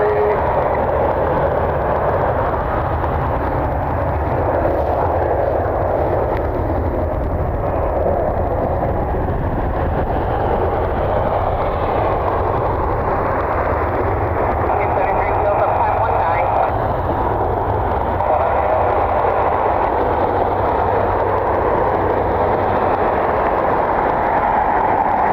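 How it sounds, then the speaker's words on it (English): A Piedmont Embraer ERJ 145 regional jet passes on a windy night, giving a broad, steady roar that holds for a long stretch. Wind buffeting runs beneath it, with a faint voice at moments. "The Piedmont Embraer ERJ 145."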